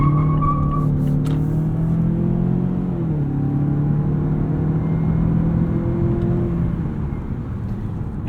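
A 2018 Mazda6 Signature sedan accelerates steadily, its engine note climbing in pitch toward redline, then dropping sharply at a gear shift before rising again, a continuous interior drone with road rumble beneath.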